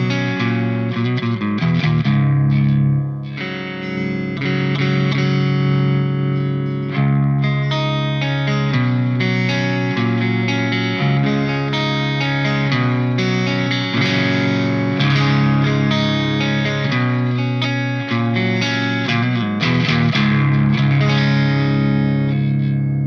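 An electric guitar on an EMG SA neck pickup plays through a Peavey 5150 II amp in crunch mode with no tube screamer, a sustained, distorted run of chords and notes that stays loud and continuous with no talking.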